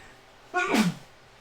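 A single close sneeze from a person during a live hockey card group break, a short sharp burst with a breathy intake leading in, standing alone against faint background hiss.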